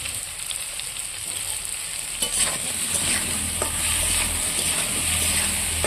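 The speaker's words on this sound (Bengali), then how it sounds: "আলুগুলো সুন্দর করে ভেজে নেব" Potatoes frying in a pan with a little salt, a continuous bright sizzle that grows slightly louder and denser over time, with occasional scraping from stirring and no voices.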